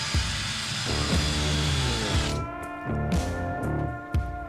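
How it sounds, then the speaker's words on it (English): A power drill runs in several bursts, its motor whirring and changing pitch as it bites into material, with brief pauses between runs. "Might as well drill it while I've got that drill out."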